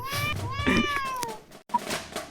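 A cartoon cat meows in the Battle Cats mobile game, with a bright gliding cry up front and a shorter second chirp after a brief gap, set against light game music.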